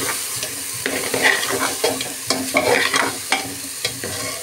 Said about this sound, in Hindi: और चावल डालने के बाद इसको और अच्छी तरह से मिक्स कर लेंगे